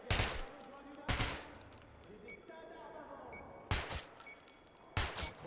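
Sniper rifle fire in the video game Metro Last Light Redux, loud sharp shots at irregular intervals over a murmuring game ambience.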